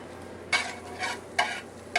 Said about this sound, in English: We're going to let that saute